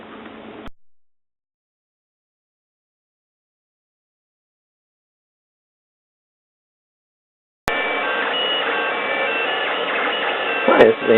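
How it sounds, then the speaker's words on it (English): A TAZ 5 3D printer printing PVA filament hums steadily with whirring stepper motors and faint ticks after a long silence, a brief burst of sound at the start. "once again I'm printing with the TAS 5 printer, and today I'm printing with polyvinyl alcohol, or PVA"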